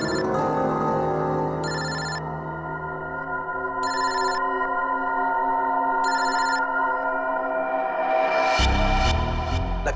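A telephone rings in three evenly spaced bursts over a tense music score, loud and clear and alone with no talking, ending as a louder sound swells in.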